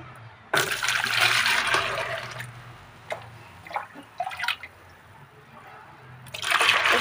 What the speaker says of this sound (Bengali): এই মগের সাহায্যে এখান থেকে জলটা আমি তুলে নেব